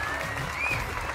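Audience applause at a TikTok-themed talk show, a steady wash of clapping held at moderate level, with a faint tonal whistle drifting above it.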